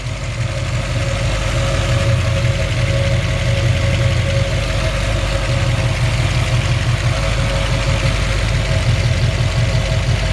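A 1964 Ford Galaxie 500 with a recently rebuilt engine idles loudly and steadily nearby, a smooth low droning rumble with no talking over it.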